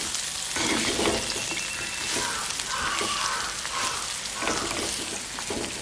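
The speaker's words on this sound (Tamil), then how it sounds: "இன்னும் ஒரு கொஞ்ச நேரம் இந்த மாசியும் சேர்த்து இதோட வதங்குற மாதிரி வச்சு மூடி விட" Curry chillies sautéing in a pan with Maldive fish, a loud continuous frying hiss with stirring scrapes and bursts of sizzle throughout.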